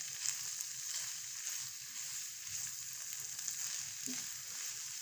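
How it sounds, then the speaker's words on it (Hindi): Noodles and fried eggs are mixed in a pan with a spoon, making a faint, soft frying hiss with light scraping and stirring movements underneath. "इसको भी अब हम अच्छे से चम्मच की मदद से मिक्स कर लेंगे"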